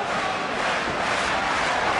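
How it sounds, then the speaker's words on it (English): A boxing arena crowd cheers in a steady, dense roar that holds at full level for two seconds, with no single voice standing out. "Crowd are loving it too"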